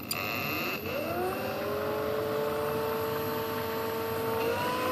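Electric motor with a larger propeller on a test bench spinning up under slowly increasing throttle, a steady rising whine with a broadband rush, close and continuous.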